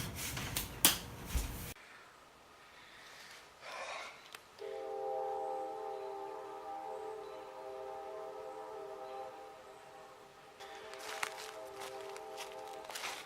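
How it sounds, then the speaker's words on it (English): A train passes with a sustained multi-tone horn blast in the middle, framed by louder clattering noise at the start and end, moderately distant. "Train."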